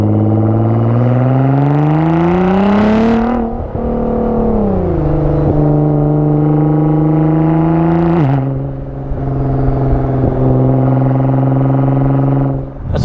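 A Nissan GT-R with an aftermarket titanium exhaust revs loudly and close by, rising in several long pulls and dropping back to a rumbling idle between them.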